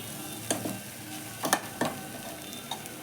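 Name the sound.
stirring food frying in a pan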